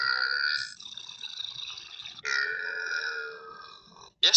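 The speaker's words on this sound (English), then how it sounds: "Next up is burping." Two long, loud, close burps roll out one after another with a short gap between them, followed by a sharp click at the end, with no talking.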